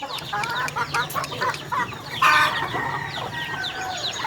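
Several chickens cluck in irregular bursts on a backyard poultry setup, and a rooster crows loudly partway through, all close by with no talking.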